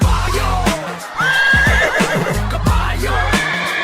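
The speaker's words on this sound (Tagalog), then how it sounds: "Kabayo!" A horse neighs loudly and close, a long rising whinny with harsh snorting breaths around it, with no talk over it.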